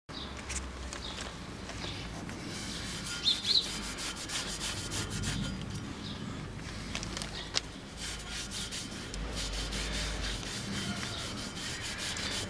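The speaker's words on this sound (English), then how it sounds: "Clean the grease from the disc surface." Rag rubbing grease off the surface of a car's brake disc, a continuous close scratchy rubbing with brief louder scrapes, no talking.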